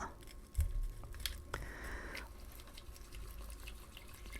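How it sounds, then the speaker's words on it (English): A rake stirring water in a bucket beneath the surface: muffled sloshing and gurgling with a short burst of bubbling, close and fairly quiet. "see how nice when you rake underwater?"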